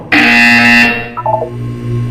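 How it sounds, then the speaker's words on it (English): An electronic buzzer sounds in the Portal 2 video game, one loud sustained tone of about three-quarters of a second, followed by a short run of stepped, quieter electronic tones and a low lingering hum. "When you hear the buzzer, look down at the floor."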